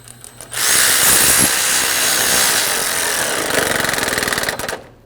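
A power tool, likely an impact driver, runs loudly and continuously for several seconds close by, tightening a bracket bolt on the AC condenser of a 2000–2005 Ford Excursion. It ends with a short rattling burst, with no talk.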